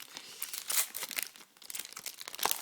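Foil wrappers of Pokémon EX Ruby & Sapphire booster packs crinkle and tear in quick, uneven bursts, close and fairly loud with no talk.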